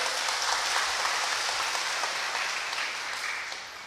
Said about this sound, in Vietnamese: Xin có tràng pháo tay để chúc mừng giáo xứ.